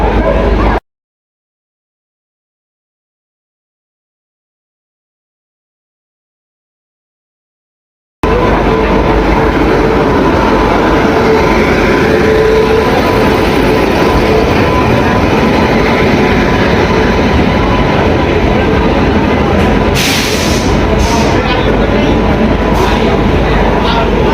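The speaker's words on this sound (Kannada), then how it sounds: "ನೋಡ್ರಿ ನಮ್ಮ ರೈಲು ಬರ್ತಾ ಇದೆ" The Hubballi–Tundla Maha Kumbh special train pulls into platform one at Pune Junction with a loud, steady rail rumble and a brief high screech near the end, after a short stretch of silence.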